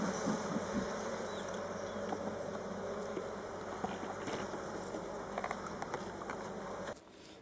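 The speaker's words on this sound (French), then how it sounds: "on voit que les abeilles elles rendent beaucoup de nectar" Honeybees buzz in a steady, dense hum at an open hive during a class visit, with scattered light taps and rustles. The sound stays close and even, then drops abruptly just before the end.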